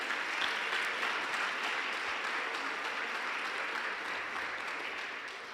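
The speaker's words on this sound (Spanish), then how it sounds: "Denle un fuerte aplauso al Señor si se lo va a dar." A church congregation claps in strong, sustained applause, a dense wash of hands heard at moderate distance, fading slightly toward the end with no speech over it.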